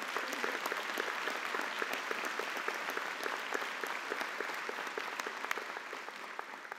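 A convocation audience claps through a spring graduation ceremony, with steady, fairly distant applause that holds an even level throughout and has no voices over it.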